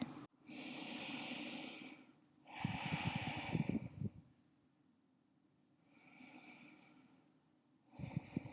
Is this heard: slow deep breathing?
yes